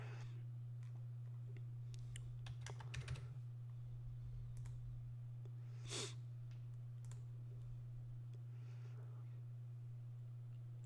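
A computer keyboard and mouse click while someone signs in on a website, sparse irregular taps and clicks over a steady low electrical hum, close but quiet.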